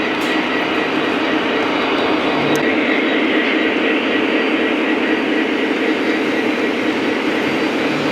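A Union Pacific Lionel model train runs on the Chicagoland Lionel Railroad Club layout, giving a steady, close rumbling roll of wheels on track that holds evenly throughout with a faint high click near the start.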